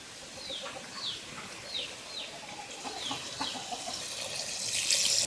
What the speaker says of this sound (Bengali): এখন পরিমাণ মতো পানি দিয়ে দেবো